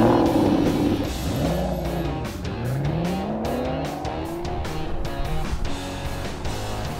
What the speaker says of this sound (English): Time for a flying lap in James Bond's preferred car, the Aston Martin, before the circuit is closed off for the race